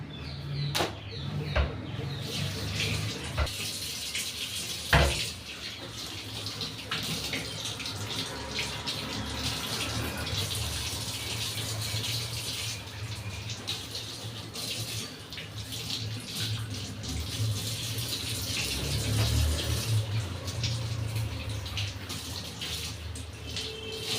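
Leaves for ilayada being washed under running tap water, a steady close splashing wash that goes on throughout, with a few knocks and clatters mixed in.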